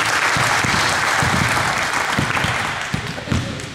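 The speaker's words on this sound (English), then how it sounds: "Let's give them a round of applause" Applause from a group at a sports practice or coaching session, a steady wash of claps close by that holds for nearly four seconds and fades slightly at the end.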